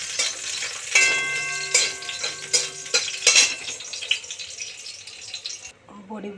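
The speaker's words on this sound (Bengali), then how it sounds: "বড়িটা ভেজে নিচ্ছি।" Bori, Bengali lentil dumplings, frying in a pan with a steady close sizzle, broken by a few clinks and stirring scrapes of a utensil, with soft voices in the background.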